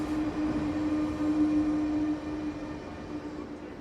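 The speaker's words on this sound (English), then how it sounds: "The train will stop here for a few minutes." A train pulling into Bellinzona station in Switzerland gives a steady, fairly loud rumble with a sustained droning hum that eases off slightly toward the end, with no talking.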